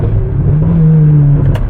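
A 16-year-old Ferrari F430 fitted with an iPE exhaust, driven in manual mode, revs hard with a loud, deep, continuous engine roar close by, no talk.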